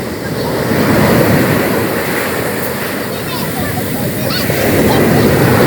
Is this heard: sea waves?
yes